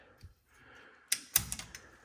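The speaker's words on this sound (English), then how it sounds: "So I'm just going to cut it with some scissors." Scissors cut through a white nylon strap on a Chevy K10/K20 front shock, giving a couple of sharp, close snips after a quiet pause, with a few lighter clicks trailing off.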